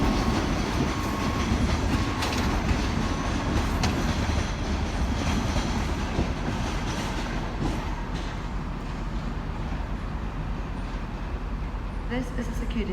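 Trains at Edinburgh Waverley station rumble and clatter steadily through the clip, a broad continuous rail noise with occasional clanks and station ambience.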